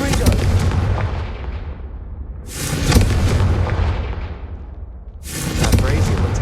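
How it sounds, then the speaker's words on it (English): Three Confringo fire spell explosions in the video game Hogwarts Legacy burst out at regular intervals, each a loud, close boom that fades into a long, rumbling decay. "Confringo!"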